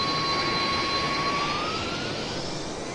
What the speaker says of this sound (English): Love the engine noise.